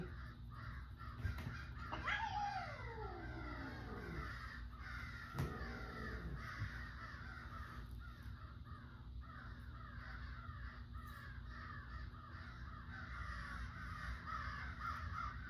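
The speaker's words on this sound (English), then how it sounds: "Yo, there's like 10 crows out there." Around ten crows caw outdoors, a couple of loud harsh calls early on, then fainter, more distant cawing over steady background hum.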